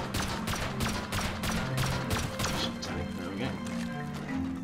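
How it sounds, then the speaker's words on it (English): Rapid gunfire in the video game Rust as a player shoots at a shotgun trap during a raid: a dense fusillade of sharp, loud shots in quick, uneven succession, closely spaced throughout. "I shot at the top corner just to keep the shotgun trap taking damage."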